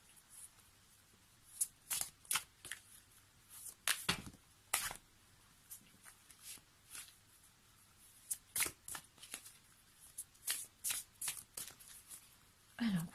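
Oracle cards shuffled by hand for a card reading: repeated soft, crisp riffling bursts in an irregular rhythm, close and fairly quiet, with no talk over them.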